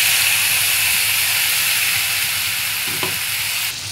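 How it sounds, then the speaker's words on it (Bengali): Spice paste and thankuni leaf paste sautéing in hot oil with bay leaf and five-spice tempering, a steady loud close sizzle and hiss throughout, with a faint stirring knock near the end and no voices. "ভালো করে মশলা শুদ্ধ এই পাতাটাকে ভালো করে কষিয়ে নেবো নাড়িয়ে চাড়িয়ে"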